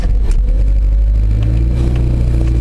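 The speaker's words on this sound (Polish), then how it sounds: "Tak odpala Mazda na mrozie." A Mazda car with about 182,000 km starts its engine in freezing cold around -12°C, a loud, close, rough idle with clattering and revving that settles into a steady running rumble.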